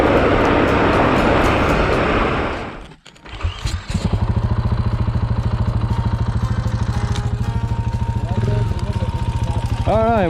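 A motorcycle engine pulls under steady throttle on a sandy backcountry road, its loud, rapid firing pulses running close and continuous after a brief burst of wind rush fades out.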